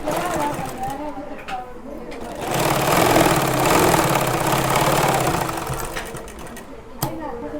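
Domestic sewing machine running a side seam on a kurti, a steady mechanical whir with rhythmic needle clatter that swells louder through the middle, while someone talks over it.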